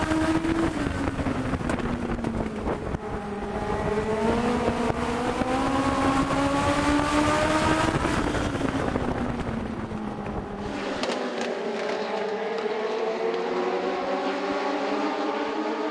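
Legends race cars at Southside Speedway roar past on the backstretch, engines droning and sliding in pitch as they pass near the microphone, then fading into a lower, more distant drone, with wind buffeting throughout.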